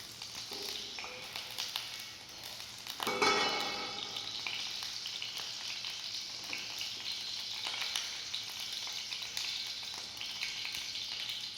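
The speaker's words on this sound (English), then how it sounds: "Let the ghee to melt." Ghee melting and sizzling in a pan for a royal murgh methi korma, a steady soft crackling hiss throughout with a brief louder burst of spattering near the start, no talking.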